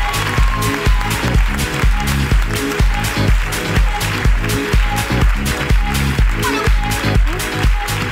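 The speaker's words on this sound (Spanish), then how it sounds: "¡Aplauso para la ruina de Adrián!" Audience at a live Spanish comedy podcast taping claps along in a loud, steady rhythm, each beat evenly spaced and sustained for the whole stretch.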